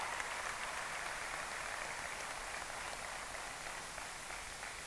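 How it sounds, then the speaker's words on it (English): A crowd applauds at a OnePlus 6 phone launch in a large venue, a dense, hiss-like wash of clapping that holds steady and fairly distant throughout, slowly easing off toward the end. "that deserves a huge round of applause for the entire product team and for all of you fans."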